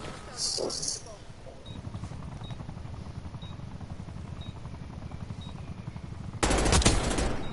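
Rapid gunfire from the Call of Duty video game crackles in short bursts over a steady mechanical drone, ending in a loud, dense volley.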